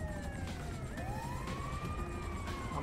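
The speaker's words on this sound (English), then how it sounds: "Here comes the other ambulance." Ambulance siren in the FivePD police game, a steady wailing tone sweeping up and down over a constant rumble of traffic, loud and continuous for the whole stretch.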